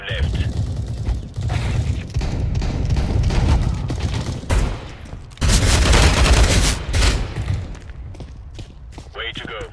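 Repeated gunfire bursts and booms from Counter-Strike: Global Offensive on the Cobblestone map, loud and continuous with dense rapid volleys, while voices talk over the shooting.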